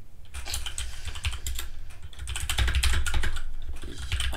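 Rapid typing on a computer keyboard heard up close, a dense run of clicking keystrokes that fills the whole stretch with no talk over it.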